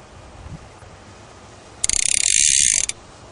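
A fly reel's ratchet gives a rapid, buzzing run of clicks as line is pulled off to thread the rod. The burst lasts about a second, loud and close, after a quiet start.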